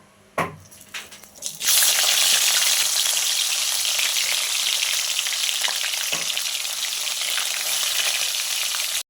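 Turmeric-and-salt-rubbed fish fillets dropped into hot oil, a few splashy impacts then a sudden loud, sustained crackling sizzle that continues steadily, close and dense, with no talking.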